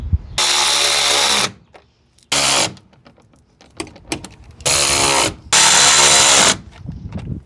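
A power tool drives bolts on a 2025 Ford F-150 trim during a hidden grille light bar install. It gives four loud, close whirring bursts, each about a second long, with quiet pauses and small handling clicks between them.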